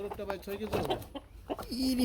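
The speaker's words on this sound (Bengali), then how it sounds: "লালদারি মুরগ আর বামেটা হচ্ছে মুরগি রানী ডিম করতেছে না" Chickens at a farm, a rooster and a hen, give short clucks and a drawn-out fowl call at close range, with a bit of background noise between the calls.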